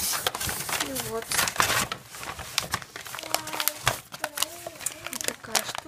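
Someone handles a paper coffee bag, and its crisp crinkling and rustling comes in bursts close to the microphone while a person talks over it.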